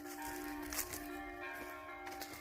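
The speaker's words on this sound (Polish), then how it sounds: "dzwony biją" Distant church bells ring faintly, their sustained tones hanging over quiet outdoor background noise.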